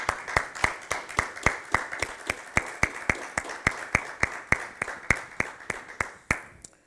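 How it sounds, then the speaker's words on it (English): A church congregation claps in unison to praise, a steady, evenly spaced beat of about three claps per second, crisp and moderately near, fading out at the end. "Let's give him a hand clap for praise."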